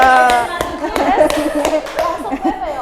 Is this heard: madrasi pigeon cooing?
no